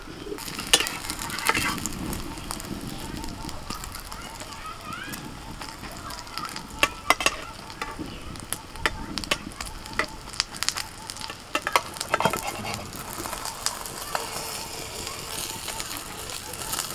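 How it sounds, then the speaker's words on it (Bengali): Egg sizzling and crackling in hot oil in a pan, a steady frying hiss with scattered sharp pops throughout, close and continuous. "তেল গরম হয়ে গেছে, এবার আমি ডিমটা ঢেলে দিচ্ছি"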